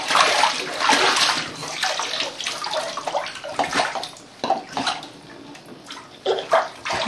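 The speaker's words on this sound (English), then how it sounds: "Splash Daddy! Splash Daddy!" Water sloshes and splashes in a bathtub in repeated uneven bursts, close by, with no talking.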